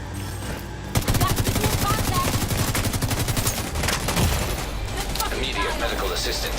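Sustained automatic gunfire in the video game The Division 2, a rapid rattling burst that starts abruptly and keeps going under a busy combat soundscape.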